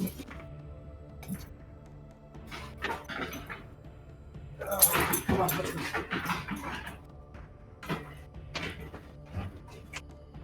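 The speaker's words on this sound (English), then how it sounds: "Quit yelling at me, dogs." Dogs barking and whining indoors, with intermittent yelps and whimpers, a louder burst of barking midway, and people talking over them.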